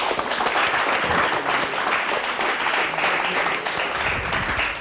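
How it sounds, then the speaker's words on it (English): Studio audience at a science quiz show applauding a team after a correct answer, a dense, steady wash of clapping that holds loud and even throughout. "So let's clap for them."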